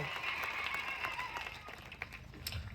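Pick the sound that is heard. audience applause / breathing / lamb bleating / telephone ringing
audience applause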